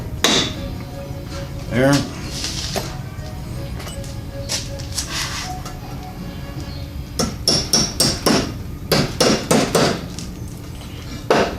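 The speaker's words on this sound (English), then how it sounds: "then we'll give it a couple smacks to help loosen it right back up" Sharp metallic hammer smacks seating retaining clips on a drive shaft of a Chevy LUV pickup, a few isolated hits early then a quick rapid series near the end, close and loud, with brief talk between.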